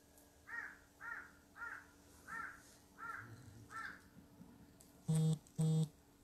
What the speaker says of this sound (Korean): 저 까마귀가 울면은 까마귀 소리를 관해서